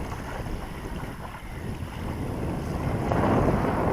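Strong wind buffeting the microphone at a wild pond during a carp fishing trip, a constant rough rumble that grows louder and gustier toward the end, with no voices.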